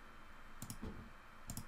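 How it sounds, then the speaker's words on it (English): Quiet mouse clicks at a computer, heard as two or three soft, close clicks over a faint steady background hum. "click OK"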